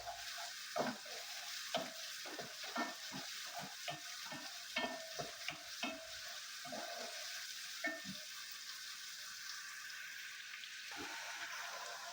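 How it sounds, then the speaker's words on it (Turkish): Garlic and onions sauté in a pan for green lentils, a soft continuous sizzle broken by rhythmic scraping stirs of a utensil, close and fairly quiet. "Evet şöyle iki diş soğanımızı ilave ediyorum. Onlar da soğanlarımla beraber kavruluyor."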